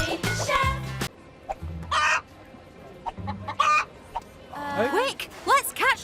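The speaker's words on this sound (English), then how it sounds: "Quick, let's catch those hens!" Hens cluck in a cartoon at a town festival. There are several short, choppy bursts of clucks and squawks with pauses between them, and the final second holds a rapid flurry of rising calls.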